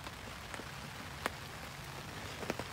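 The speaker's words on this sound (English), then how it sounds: "Still raining, as I'm sure you can hear." Steady rain falls outdoors in winter at a forest shelter, a constant even hiss with a few louder drops striking nearby, faint overall and with no voices.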